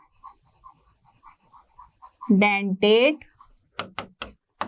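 A teacher writing on a board produces a series of short, light tapping and scratching strokes in an even rhythm, interrupted by a brief burst of his speech and followed by a few sharper taps.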